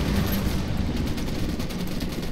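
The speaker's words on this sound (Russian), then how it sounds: "Правильно, парни, открываем огонь" Gunfire in Ghost Recon Wildlands, a dense burst of rapid shots blending into a continuous rattling roar across the short span, with no talk.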